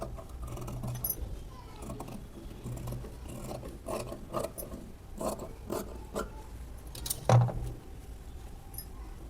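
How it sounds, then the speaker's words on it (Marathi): Scissors snip a round blouse neckline into fabric, giving soft, irregular cutting and rustling sounds close by, with a sharper snip near the end. "आता गळा आधी कट करून घ्यायचं राऊंड."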